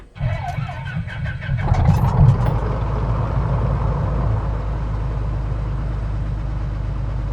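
A Cessna 182RG engine in a flight simulator cranks briefly, catches, then settles into a steady, loud propeller-engine idle that drones on without any talk.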